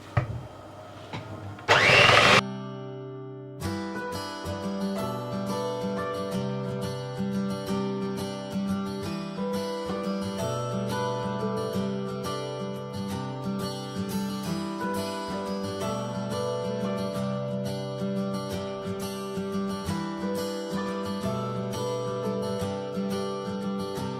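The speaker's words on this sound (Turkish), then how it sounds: "Her koyduğumuzda güzelce çırpacağız." Electric mixer beating eggs into choux pastry dough for chocolate eclairs: a brief loud burst, then a steady, close motor whine with a rattling, churning texture, and no voices.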